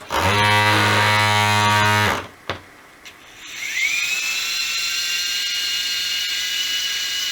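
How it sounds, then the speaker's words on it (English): A loud, steady high-pitched whine from a small USB-powered motor that cuts off abruptly, then a quieter whirring motor starts up and keeps spinning steadily, turning water in a bucket washer. "we've got a little motor that runs off USB"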